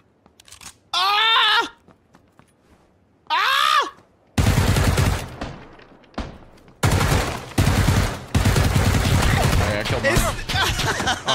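Bursts of rapid gunfire from a PUBG match crackle loud and dense in the second half, broken by short gaps, after two harmonic bleat-like vocal sounds near the start.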